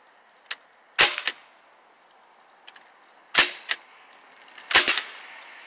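A Sig MPX toy gun fires in three short bursts of sharp, snappy pops, each burst two or three quick shots close by, separated by quiet pauses.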